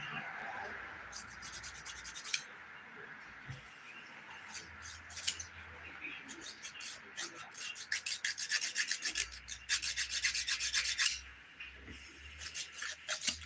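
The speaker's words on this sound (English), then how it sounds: "I'm using the 100 grit side. It might sound a little louder, but it's kind of filing away all the big stuff for me." The 100-grit side of a nail file rubs back and forth over nails, a close, steady rasping scrape that runs in quick rhythmic strokes and grows louder and denser toward the end.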